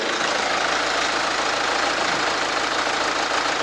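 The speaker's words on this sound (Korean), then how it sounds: "자 엔진 사운드는 그냥 디젤 특유의 사운드다 라고만 들어주시면 될 것 같습니다" A diesel SUV engine idles up close with the hood open, a steady, even rumble with a faint rattling texture that holds without change throughout.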